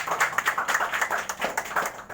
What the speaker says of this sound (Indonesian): Tepuk tangan untuk Golkar.